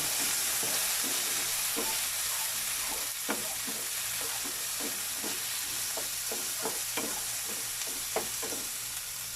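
Tomatoes are stir-fried in a pan for a bean sprout and corned beef sauté, a constant close sizzle broken by a steady run of sharp spatula scrapes and taps.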